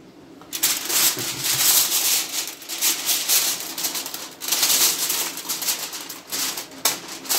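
Paper is cut for a homemade TV antenna, giving a steady, close, scratchy rasp that runs for several seconds with brief pauses and no talking.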